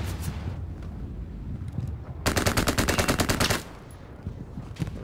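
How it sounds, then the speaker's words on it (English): Rapid automatic gunfire in a shooter video game, a dense burst of loud, close shots lasting over a second amid a backdrop of distant shooting and battle noise. "Already getting shot again."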